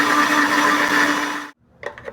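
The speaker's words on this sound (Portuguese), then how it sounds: "Vou levar para bater." Electric blender whirs loudly and steadily, blending lemon juice, olive oil and seasoning into a paste, then cuts off abruptly, followed by a few light clunks of the jar.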